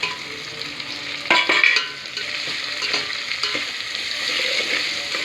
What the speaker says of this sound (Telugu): ఇప్పుడు నూనెలో కొంచెం క్యారెట్ ఉడికింది కదా కొంచెం వేగిపోయింది ఇప్పుడు టమాటా వేసుకోవాలి టమాటా వేసుకుంటున్నా